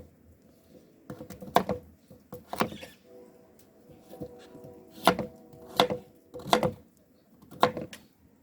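Knife chopping through pumpkin for Jamaican-style chicken soup, a series of sharp, close, evenly spaced thuds on a cutting board with short pauses between strokes.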